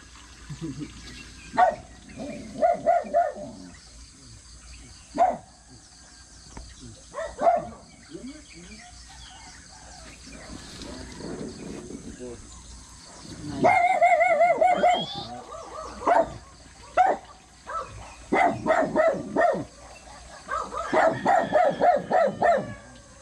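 Several dogs bark in clustered outbursts outdoors on farmland, loud volleys separated by quieter gaps, with some human voices mixed in.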